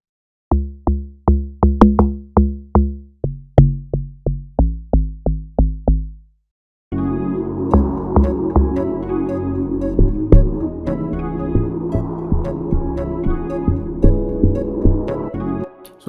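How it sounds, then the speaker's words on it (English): A log drum patch from the DX10 synth in FL Studio plays a run of short, punchy, pitched knocks with quick decays, then drops out and gives way to a dense amapiano beat with steady layered percussion and synths. "So this log drum sounds perfect already."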